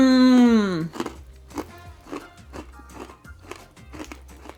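Freeze-dried Jolly Rancher candies crunched up close, a run of crisp brittle bites and crackly chewing in irregular bursts, following a short sung or exclaimed vocal sound at the start.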